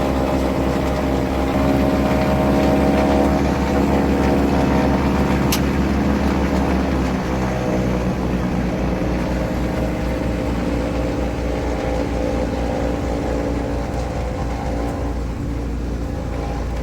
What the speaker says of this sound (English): we're about to taxi to the runway now